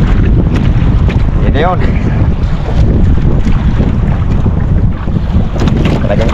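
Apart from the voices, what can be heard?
strong northeast monsoon wind (amihan) at sea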